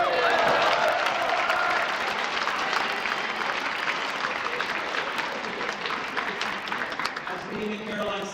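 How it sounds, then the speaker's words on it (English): A school audience at a winter closing assembly claps for a student's birthday. The applause is steady, dense and full, with many hands at once. It holds across the stretch and thins a little near the end, while a few voices carry faintly underneath. "Give a round of applause."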